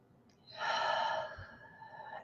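A single deep breath is drawn in sharply through the nose and mouth, close and breathy, then eases into a softer, longer exhale, alone with no talking.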